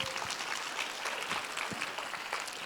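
Crowd applause from a comedy audience, a steady dense patter of clapping at moderate level with no talk over it.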